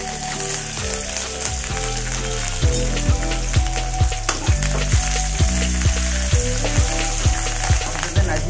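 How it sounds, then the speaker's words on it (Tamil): Green chilies and curry leaves fry in hot oil, giving a dense, close sizzle throughout, with sharp crackles and pops repeating at a regular rhythm. "மிளகாயும் கருவேப்பிலையும் சேர்த்திக்கலாம்."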